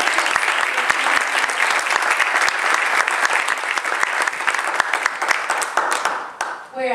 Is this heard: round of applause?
yes